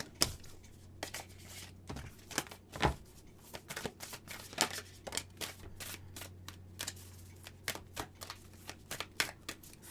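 Moonology oracle cards are shuffled by hand up close, a quiet, uneven series of crisp riffling slaps and soft flicks over about ten seconds, with no talking.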